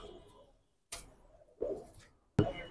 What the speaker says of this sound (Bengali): এগুলো হলো আমার ব্রিডার কবুতর